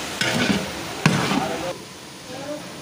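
Tomato and capsicum stirred into a cauliflower and brinjal curry pan, two brief scraping, sizzling strokes of a spoon against the pan close up, then a softer fade with faint sizzle.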